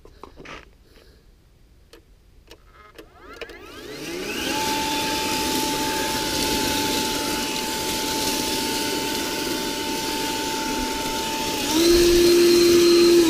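An EGO or Ryobi battery leaf blower starts from a quiet shop with a few ticks, rises to a steady close whoosh with a thin whine, then jumps louder near the end as its power ramps up.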